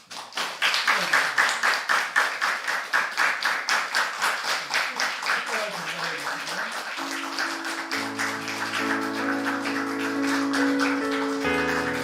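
A church congregation claps at a Sunday service after a baptism, with many hands beating a steady rhythmic clap that is loud at first, then softens as sustained piano or organ chords come in underneath.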